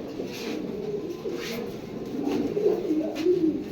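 Pigeons, including Mukhi and Nilgiri breeds offered for sale, coo softly and repeatedly at close range over a steady background hum of many birds.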